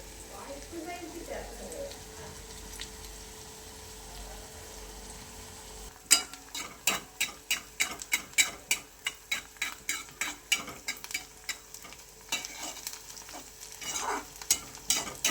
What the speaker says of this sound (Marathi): कांदा करपाय नको म्हणून हलवून घ्यायचं.